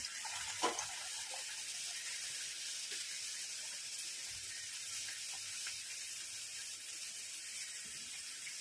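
A bhatura fries in hot oil in a small kadai with a steady, bright sizzling hiss that holds throughout, close and even, after a brief splash as it goes in.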